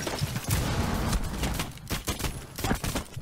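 Explosions and rapid gunfire in a tactical shooter match on the Kafe map, a grenade blast followed by a dense, loud burst of shots, then sharper scattered cracks near the end.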